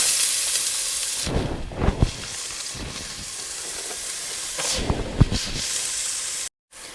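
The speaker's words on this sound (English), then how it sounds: "On medium heat, we're gonna add some olive oil to a pan and get that going. We're also gonna add 1 whole onion." Whole onion going into olive oil in a pan over medium heat gives a steady hiss of frying, broken by a few louder sizzling bursts and stirring clatters, close and without talk.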